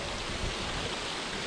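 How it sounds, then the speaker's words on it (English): A hill stream in the Scottish hills near Balintore runs over rocks in a steady, broadband rush, close and unbroken, with no voices. "It's really tranquil with this water just running over here."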